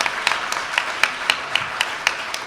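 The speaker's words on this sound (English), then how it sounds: "Give Desmond a round of applause." Rhythmic clapping from an audience at a book launch in Halifax, evenly spaced and fairly close claps over a low murmur of applause.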